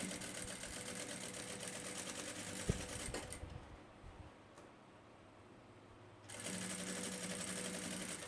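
A sewing machine stitches bias binding onto a backpack, running in a steady close mechanical whir that pauses for a few seconds and then resumes at full speed, with no talk.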